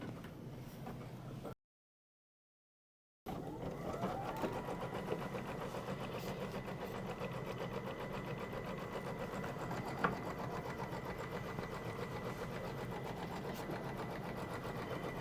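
An embroidery machine stitches a fabric placement line for a Kimberbell quilt block, making a steady, quiet mechanical hum and rapid needle chatter. The sound drops out briefly near the start, then continues evenly.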